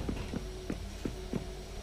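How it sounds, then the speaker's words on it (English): Heavy footsteps in the Alan Wake video game thud at an uneven, slow walking pace, five or so steps over a steady low hum, fairly close and without talk. "I'm hearing the sound of footsteps, and that's never a good thing."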